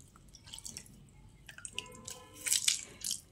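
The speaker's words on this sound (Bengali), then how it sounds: "দেখুন এইভাবে জলটা চিপে অন্য একটা বাটির মধ্যে রেখে দিচ্ছি" Soaked soybean chunks are squeezed by hand, releasing water that drips and splatters into a bowl, with faint wet squishes followed by a few sharper close splashes toward the end.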